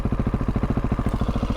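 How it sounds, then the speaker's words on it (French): A Husqvarna 701 supermoto single-cylinder engine thumps in a fast, even pulsing rhythm close to the microphone, loud and steady, with the pitch easing slightly near the end as the rider pulls a wheelie. "Je vous fais un petit wheeling vite fait"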